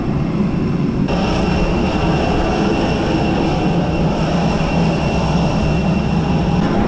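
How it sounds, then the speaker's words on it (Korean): A small airliner on the ground at Manchester airport before boarding gives off a loud, steady engine roar and whine that runs unbroken throughout, close by, with no one talking. "여기가 탈 비행기."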